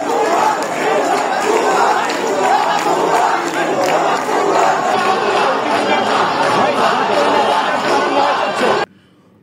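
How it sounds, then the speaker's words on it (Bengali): Angry students crowd around officials at a campus protest in Uttara, chanting slogans together in a loud, dense roar of voices that continues without a break, then cuts off abruptly near the end. "ছাত্ররা তাদের ঘিরে ধরে ক্ষোভে ফেটে পড়ে। স্লোগান দিতে থাকে, ভুয়া ভুয়া লাশ চোর প্রশাসন"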